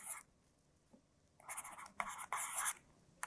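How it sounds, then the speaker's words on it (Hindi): A pen scratches out a maths exercise on paper in short, quiet strokes separated by pauses, faint and close up, with no voices. "इसको हम लिख सकते हैं"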